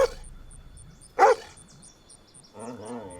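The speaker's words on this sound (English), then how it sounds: "Crazy mutt." A dog barks sharply at something in a well, one loud bark followed later by a softer whimpering yip, with quiet surroundings in between.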